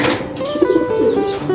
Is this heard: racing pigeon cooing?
yes